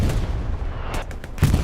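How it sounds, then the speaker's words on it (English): Artillery fire in the WWII shooter Hell Let Loose, a competitive match on the Omaha Beach map: a continuous rumbling barrage of distant booms, with a heavier, closer blast near the end. "Oh my God, the artillery on both sides is crazy"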